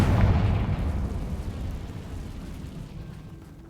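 A Confringo fire-blast spell explodes in Hogwarts Legacy combat: a loud booming burst at the start that rolls off into a decaying rumble over a few seconds, with no voices.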